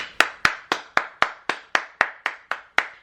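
Hand claps ring out in a steady, evenly spaced series of about eleven sharp, close claps, alone with no talking.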